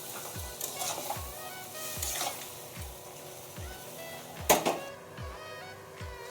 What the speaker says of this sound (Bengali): ভালো করে আমি একটু কষিয়ে নিচ্ছি।